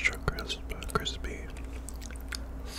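Someone whispers softly while crunching on crispy oven-baked garlic Texas toast and pasta, with close, moist chewing and bite sounds scattered through the quiet.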